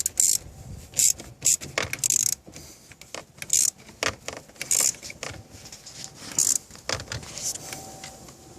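Ratchet wrench with an Allen key socket clicking during an Abarth short shifter adapter install, repeated short bursts of metallic ratcheting and tool clatter, close and uneven.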